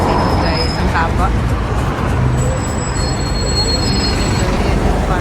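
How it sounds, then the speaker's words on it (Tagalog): A long city bus passes at night on a busy street in Tbilisi, a loud engine rumble and road noise amid surrounding traffic, with faint high whines over the roar. "Yun yung bus dito guys. Ang haba."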